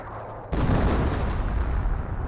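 An artillery barrage in the video game Company of Heroes, bursting in suddenly after a quiet moment as a loud, dense rumble of booms that keeps rolling on.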